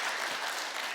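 A church congregation at a Sunday service applauds to welcome visitors, with a dense, steady patter of many hands clapping for about a second and no talk.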